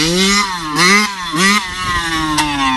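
A motorcycle engine during wheelie practice, loud and close, revving in rising and falling surges that pull back and climb again across several pulls.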